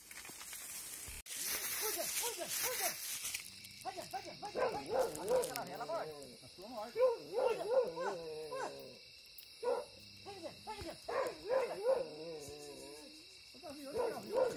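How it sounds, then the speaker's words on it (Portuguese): Dogs in the bush near a rural river bark repeatedly at a wild animal, in short bursts and yelps at middle distance, while someone talks intermittently over them. "Cachorrada com um bicho feio aqui, ó, no meio do mato, ó, ó o barulho dele."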